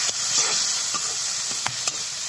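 Onions hiss and sizzle as they drop into hot oil left over from frying fish, with a steady frying noise and a few sharp crackles and stirring clicks, heard close up with no talking.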